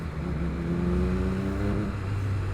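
A Triumph Trident 660 motorcycle fitted with a new exhaust revs, its full, deep engine note held steady up close before the pitch drops back toward idle near the end.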